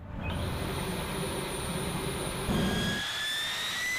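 A B-52 bomber's eight Pratt & Whitney TF-33 turbofan engines give a loud, continuous roar with high whining tones, steady and close, with no voices.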